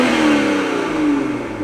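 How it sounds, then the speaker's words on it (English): A Toyota A90 Supra with the B58 engine and stock exhaust, valves closed, revs up and settles, a muffled mid-pitched engine note with rising and falling tones, close and steady. "So that's with the valves closed."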